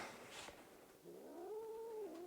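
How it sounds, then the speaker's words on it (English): Angry cat caterwauling at close range, a single long rising and falling yowl that swells and wavers near a door, loud and alone with no talk. "Look at this attack cat."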